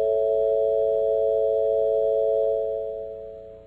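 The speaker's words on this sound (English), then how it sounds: "We put these mistuned tempered intervals together in a major chord, you can hear the rough and restless quality that Helmholtz referred to." A mistuned equal-tempered major chord holds steady and bright as a close cluster of tones that beat roughly against each other, then slowly fades out.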